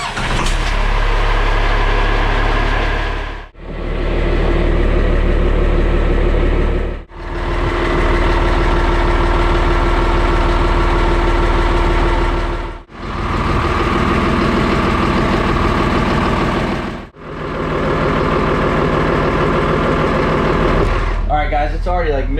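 Boat engines idle with a steady, loud, low rumble that drops out briefly a few times and then resumes, ending with a short burst of clatter.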